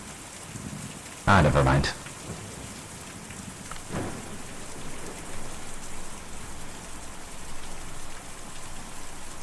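A rainstorm in the video game Kentucky Route Zero, with steady rain hissing throughout, a loud burst of thunder early, and a softer rumble later, while a voice speaks briefly.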